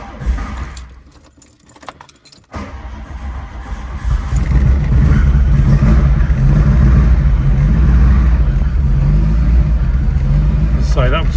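A cold 1982 VW Golf GTi MK1 with a 1.8 engine cranks and fires. Starter and key noises come first, then the engine catches around the four-second mark and settles into a loud, steady idle rumble, close up, with no talking.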